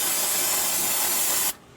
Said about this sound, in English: I'm just going to give this spot right here a good cleaning with some brake cleaner